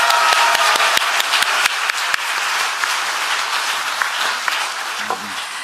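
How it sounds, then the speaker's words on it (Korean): Audience applause at a Korean academic conference and national rally, a loud burst of clapping with distinct individual claps at the start that settles into a steady round and tapers slightly near the end. "우리 박한수 목사님께 한번 다시 한번 큰 박수 부탁드립니다"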